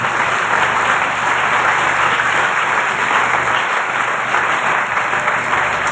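Loud applause fills a church during an Urdu/Hindi sermon, a dense and steady roar of many clapping hands that holds at full strength throughout with no talking over it.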